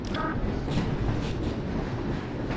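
A train rolling along in Half-Life, a continuous low rumble with rhythmic clacking of wheels on rails, steady and fairly faint with no voices.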